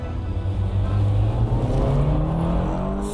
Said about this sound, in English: a rare clip of the S2000 prototype being tested on the old course at